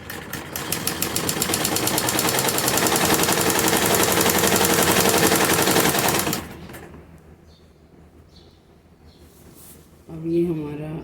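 Sewing machine running a straight stitch along a cut in a salwar belt, a loud continuous rapid mechanical chatter for about six seconds, then quiet handling sounds and a brief voice near the end.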